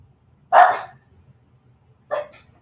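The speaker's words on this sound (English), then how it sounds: "Sorry for the dogs barking." Two separate dog barks, fairly close and loud, the second shorter and quieter, with near silence between them.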